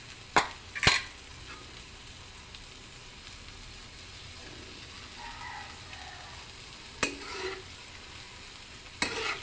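Scrambled egg is stirred into sautéed bitter gourd with tomato in a pan, giving a quiet, soft background sizzle broken by a few sharp spoon clinks and scrapes against the pan at irregular intervals, with no voices.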